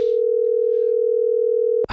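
A steady telephone dial tone holds alone for nearly two seconds while a phone call is being placed, then cuts off abruptly at the end.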